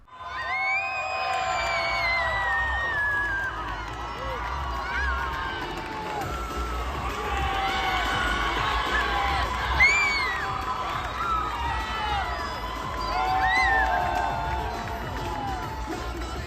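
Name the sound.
crowd cheering at a chainsaw man cosplay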